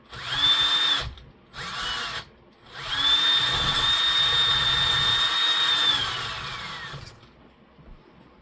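A chattering steering servo in a Vaterra Ascender K10 RC car whines in a steady high pitch with short bursts, then a longer sustained run, close and fairly loud, with no talking.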